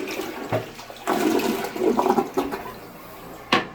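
A hotel bathroom toilet, an American Standard fitted with a Bemis seat, flushes in a loud rushing surge that swirls and gurgles for a couple of seconds, then tails off before a final short gush of water.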